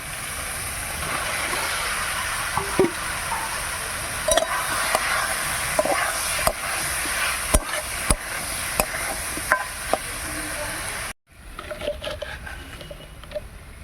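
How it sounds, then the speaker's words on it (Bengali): Spice paste with grated coconut being stir-fried in a pan for a yam dish: a steady sizzle and frying hiss with scattered scrapes and knocks of stirring, close and continuous, cutting briefly near the end. "এবার নারকল কুড়া দিয়ে মশলা ভালো করে কষে নেব"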